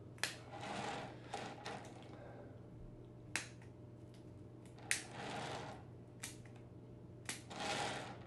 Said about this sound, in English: Cut these tips off.